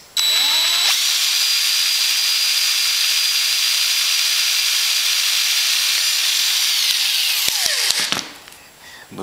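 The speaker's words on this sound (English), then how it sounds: "I'm going to go ahead and drill this hole." Power drill boring a hole through an RV-7 aileron plate: a loud, sustained high-pitched whine that spins up, holds steady for about seven seconds, then winds down and stops, alone without talk.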